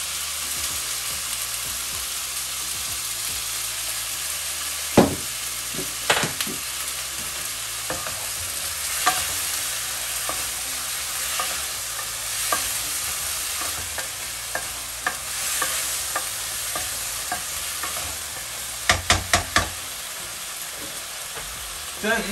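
Chicken wings frying with light and dark soy sauce for cola chicken wings, a steady sizzle under repeated spatula scrapes and clacks against the pan, a quick cluster of knocks near the end, close with no talk.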